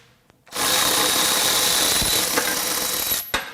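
A Milwaukee M12 FUEL high speed ratchet tightens a fastener in one loud continuous motor whir lasting about three seconds, ending with a short click and a brief final burst.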